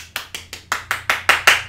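About nine quick hand claps in a steady rhythm, growing slightly louder as they go, close and crisp with no talking.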